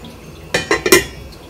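A metal lid set onto a pot of Dominican chicken soup, a short cluster of three or four close, bright clanks and rattles against quiet background.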